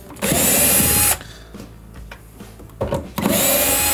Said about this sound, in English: They just come straight out with a Phillips head drill or screwdriver.